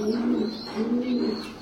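Pigeons coo in two soft, low, rolling phrases, moderately close with no other sounds in the background.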